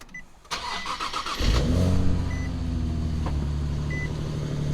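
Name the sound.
Nissan 370Z engine starting up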